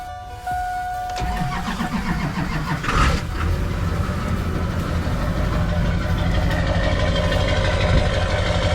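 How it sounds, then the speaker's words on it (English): An LB7 Duramax diesel truck engine cranks and catches about half a second in, then settles into a steady, loud, clattering idle on a mild 48-degree day. "So we're gonna show you here how she starts."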